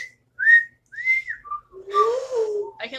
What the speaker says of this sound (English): Can you not whistle either?